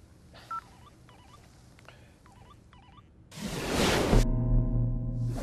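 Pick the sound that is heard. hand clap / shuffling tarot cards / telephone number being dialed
telephone number being dialed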